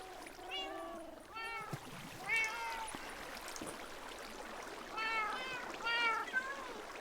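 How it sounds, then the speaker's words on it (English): A cat meows repeatedly in a video game, several distinct drawn-out meows in pairs with pauses between, over a faint running-water background. "why is that cat down there? He has managed to escape."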